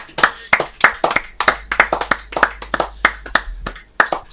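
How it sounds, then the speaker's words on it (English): A steady run of hand claps, about a dozen sharp slaps in an uneven rhythm, close and fairly loud in a radio studio, with a faint low hum beneath. "Got to keep clapping until he puts his headphones on."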